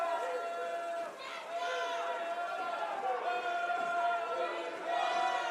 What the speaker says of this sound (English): This crowd beginning to make some noise.